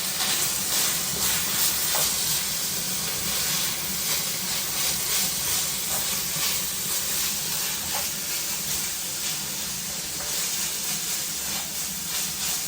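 Seasoned shepherd's pie filling is stirred in a pan, a continuous moderate sizzle and hiss with soft scraping and occasional spoon taps, and a thin high whine running steadily throughout.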